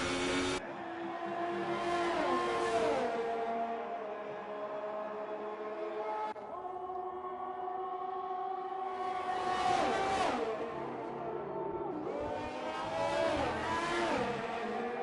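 Sauber race car engine in an F1 racing video game at Canada, a high whining engine note rising and falling through gear changes and acceleration, fairly steady and prominent across the stretch.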